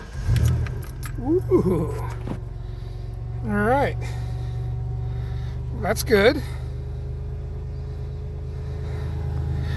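A Ford 4-liter fuel-injected truck engine starting cold in 20-degree weather, settling into a steady low idle rumble while someone talks briefly and reacts nearby.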